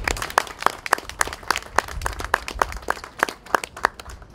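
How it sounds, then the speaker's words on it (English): Audience applauding cultural funding grantees at a New Bedford Fishing Heritage Center anniversary event, a sparse, steady patter of individual claps at a moderate distance, fairly quiet and without voices. "they deserve to hear our applause again"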